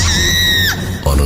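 A woman screams in a horror story, a sustained high shriek that ends abruptly, followed by a loud low rumble or thud; the scream is close and loud.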